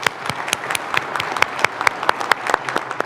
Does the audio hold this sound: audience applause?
yes